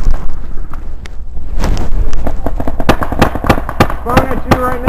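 Rapid bursts of gunfire from the Tiberius T4 in a video game shooter, sharp repeated shots clustering toward the end, loud and close under the players' talk.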